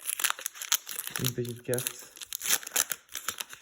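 A Pokémon Dracaufeu booster pack wrapper being crinkled and torn open, with close, crackly plastic rustling running under someone speaking French.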